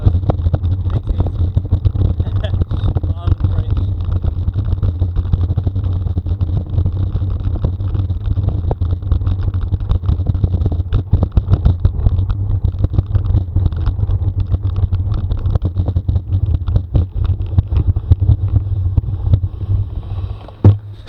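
Strong wind buffeting the microphone on a bridge across an estuary, a constant low roar with gusty rumbles and rattles throughout.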